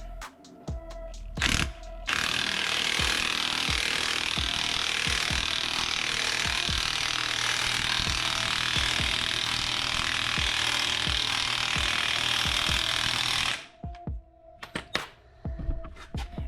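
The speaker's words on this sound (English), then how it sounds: "Using a 22mm socket, compress it from these bolts right here." An impact or power tool drives the spring compressor bolts on a BMW 5 Series front strut via a 22mm socket, a loud sustained whir for about eleven seconds with brief mechanical clicks before and after.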